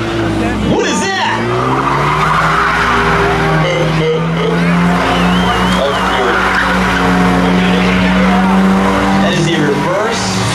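A front-wheel-drive car spins a reverse donut at a street drag racing event, its tires squealing and skidding steadily over a loud, droning engine for about ten seconds, with crowd noise faintly beneath.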